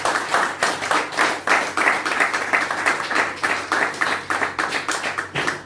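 Church congregation clapping in praise, a steady rhythmic run of sharp claps at a brisk pace, moderately loud and sustained without pause.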